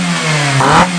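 Motorcycle engine with constant velocity carburetors revving: a steady mid-pitched idle rises into a quick throttle blip, then drops back, loud and close.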